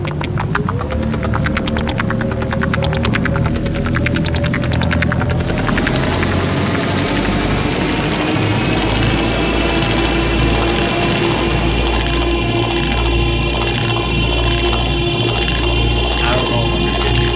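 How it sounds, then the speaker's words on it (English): Spaceship engines starting up in the Star Citizen video game: a rising layered hum that builds into a loud steady drone with sustained tones and a low rumble, continuous throughout. "That startup sound kind of sounds like a cricket burping."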